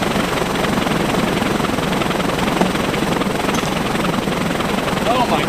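A high-speed bat-swinging test machine whirs like a helicopter, a steady loud pulsing rotor-like drone that holds unbroken throughout.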